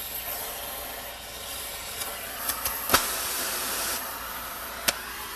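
Cutting torch burning through a steel flange, a steady loud hiss and roar with a few sharp pops and crackles, close and without talk.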